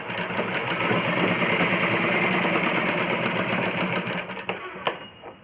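An electric sewing machine joins blouse neck pieces with a single stitch, running in a fast, steady, close-up rattling hum before slowing and stopping with a couple of sharp clicks.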